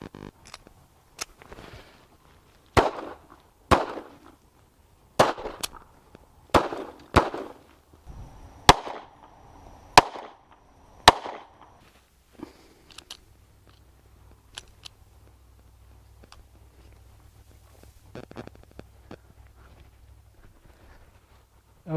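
Gunshots from a Ruger LCP II .380 ACP pistol: a series of about ten sharp, loud cracks at irregular intervals with short echoing tails, then quieter clicks and handling noises.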